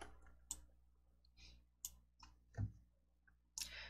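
Sparse, faint computer mouse clicks, a few sharp single taps spaced across a quiet room, with no voice over them.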